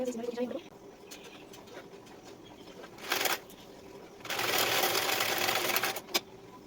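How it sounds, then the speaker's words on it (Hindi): A sewing machine runs while a blouse is stitched, with a short burst around three seconds and a sustained whirring run from about four to six seconds, fairly quiet, after a brief bit of speech at the start. "देखिए गाइस ऐसे सिलना है इसको"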